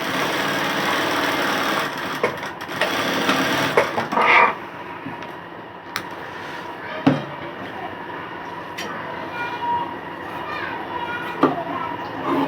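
A sewing machine stitching fabric lining for palazzo pants, giving a steady whirring run with scattered clicks and knocks, while children and other voices carry on in the background.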